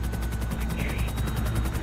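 A helicopter in GTA V thrums with steady rhythmic rotor chops under a constant turbine whine, loud and continuous for about two seconds.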